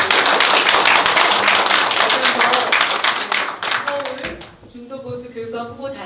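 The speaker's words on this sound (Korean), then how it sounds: "박수 한번" An audience at a Seoul education superintendent candidate unification event claps densely and loudly, and the applause fades out near the end into quieter room sound and voices.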